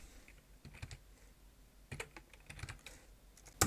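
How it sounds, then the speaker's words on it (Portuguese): Someone types values on a computer keyboard in CAD drafting software, with sparse, irregular close key clicks in small bursts and a sharper final keystroke at the end. "vou digitar uns valores"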